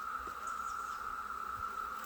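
A faint, steady insect drone with a constant tonal hum, like bees buzzing nearby, quiet and continuous.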